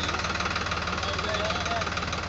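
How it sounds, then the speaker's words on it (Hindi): A Farmtrac tractor fitted with an Agrizone super seeder runs in a field, its engine giving a steady, throbbing, knocking rumble at moderate distance while people talk over it. "ड्राइवर भाई बैठ गया है और ट्रैक्टर चलता कर दिया है, ये आप देख सकते हो"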